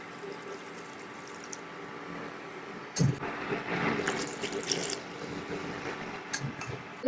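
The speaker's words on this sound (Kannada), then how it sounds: "ಈಗ ಒಂದು ಸ್ವಲ್ಪ ನೀರು ಹಾಕ್ತೇನೆ ಅದಕ್ಕೆ." Water is poured into a pot set up for boiling during home cooking: after a quiet stretch of low hum, a sudden splash starts and turns into a gurgling pour that lasts a few seconds, then trickles with small clinks.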